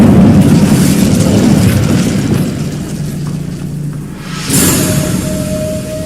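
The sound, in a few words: Incendio fire spell cast in Hogwarts Legacy video game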